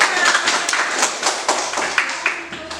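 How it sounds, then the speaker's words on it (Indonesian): Children clapping their hands in a classroom, a quick burst of claps with some voices mixed in. "Tepuk tangan untuk Kak."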